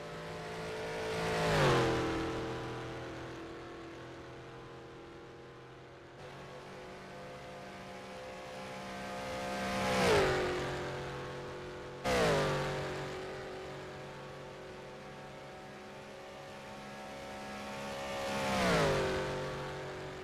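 Race cars at the Isle of Man Time Trial, about 27 miles into the lap between concrete walls, scream past one after another, each rising to a loud peak and then fading away in clear Doppler sweeps.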